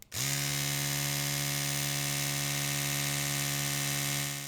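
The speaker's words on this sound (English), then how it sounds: "And an electric toothbrush for reference." An electric toothbrush switches on and runs with a steady, high-pitched motor hum, close and unbroken for several seconds.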